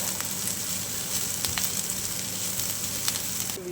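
Green chili sautéing in a pan for flower Manchurian gives a steady close sizzle with occasional faint utensil taps and no talking.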